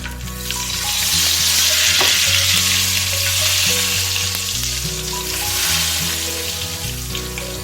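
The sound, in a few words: hot tempering poured onto lentils sizzling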